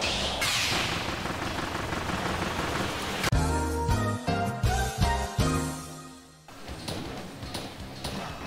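Gunfire in a Kirby video game: a long wash of rapid crackling shots, then a run of loud, punchy blasts in uneven bursts, before the crackling resumes.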